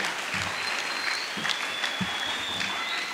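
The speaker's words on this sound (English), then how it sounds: "Let's give her a round of applause and her husband a round of applause again" Sustained audience applause for a woman and her husband at a formal event with an ambassador. Dense, even clapping fills the room at a steady level, with a faint high tone running underneath.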